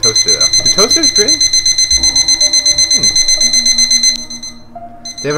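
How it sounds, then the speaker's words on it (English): A toaster's alarm clock buzzes in a fast, steady beeping pattern for several seconds before cutting out, with people talking over it. "They have an alarm clock for their toaster."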